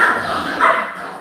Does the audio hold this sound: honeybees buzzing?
no